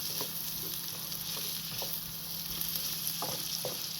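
Carrots sizzling in a pan while softening for coq au vin, a steady frying hiss with occasional crackles and pops, close and continuous, no talking.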